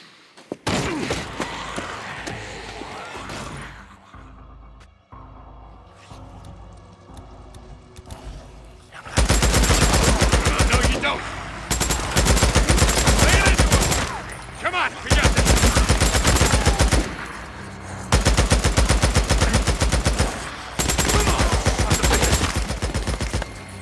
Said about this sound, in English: Just keep up a steady stream of fire, all right?